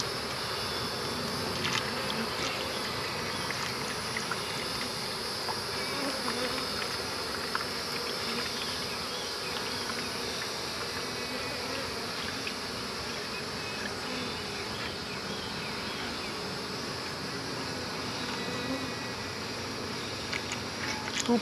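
Honey bees buzzing at a backyard hive while being fed sugar water, a steady dense drone of many wings that is close and continuous throughout.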